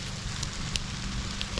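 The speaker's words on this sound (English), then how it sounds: "That's hail." Fine hail pellets fall outside a tiny cabin during an Easter snowstorm, making a dense, steady crackling patter with a few sharper ticks scattered through it.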